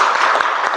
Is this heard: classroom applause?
yes